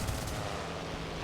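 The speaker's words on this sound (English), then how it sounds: "I do apologise in advance for my shit shooting with a 30mm MK-108." 30mm MK-108 cannon fire from a BF-109 K-4 in the War Thunder video game, heard as a dense, continuous booming roar under a loud engine drone, with no distinct separate shots.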